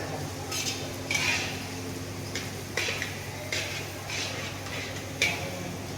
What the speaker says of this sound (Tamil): இது நல்லா டாஸ் பண்ணிக்கோங்க